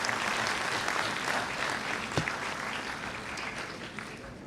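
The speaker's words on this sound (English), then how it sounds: "A huge applause for all of you who are present here." Audience applause in a large hall at a university event, a dense steady wash of many hands clapping at moderate level throughout, with one brief sharper knock partway through and no talking.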